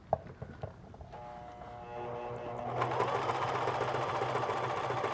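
A sewing machine stitching a quilt starts with a few clicks, then runs into a steady, close mechanical whir with a rapid rhythmic needle chatter that continues to the end.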